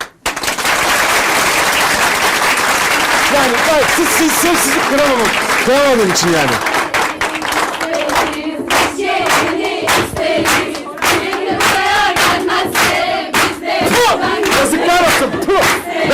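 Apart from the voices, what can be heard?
cheering and applause for a dance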